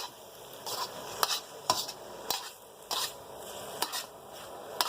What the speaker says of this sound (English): you just toss your noodles